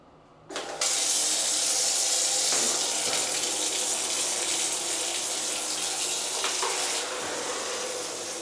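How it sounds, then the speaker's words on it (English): A powerful hotel rainfall shower starts up and runs steadily, a loud, dense rush of water pouring close by with no voices. "that's a very powerful rainfall shower"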